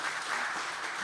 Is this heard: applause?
yes